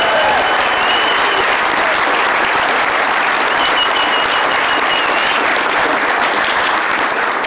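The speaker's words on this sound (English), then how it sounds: "Give yourselves a round of applause" Sustained, loud audience applause fills an election night speech hall in Louisiana, a dense wash of many hands clapping steadily without a break.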